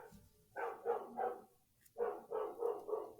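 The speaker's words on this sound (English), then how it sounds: "Pretty sure my neighbor's dog is about to kill something." A neighbor's dog barks in two bursts of three or four sharp, mid-distance barks separated by a short pause, moderately loud against a quiet background.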